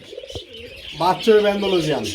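A pair of almond-coloured Mukhi pigeons coo close by in soft, throaty rolling bursts, with a quick chirp early on and people talking over them.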